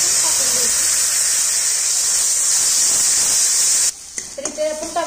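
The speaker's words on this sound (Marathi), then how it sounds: "तर इथे आपण टोमॅटोची प्युरी पण छान अशी फ्राय करून घेतलेली आहे." Tomato puree fries in a pan for baingan (brinjal) sabji with a loud, continuous hissing sizzle, which cuts off near the end as a voice starts talking.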